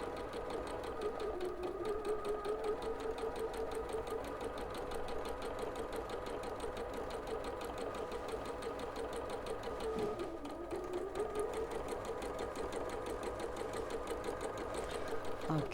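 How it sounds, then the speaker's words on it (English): A sewing machine stitches a seam in one long continuous run, its motor humming steadily with rapid needle chatter, close and loud, with a brief slowdown midway. "I am now going to sew along the other side of that line."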